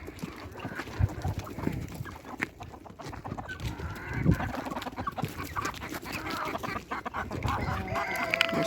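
Backyard flock of chickens being fed wheat and vegetables, clucking and a rooster crowing amid constant busy rustling and scratching, moderately near and fairly quiet throughout.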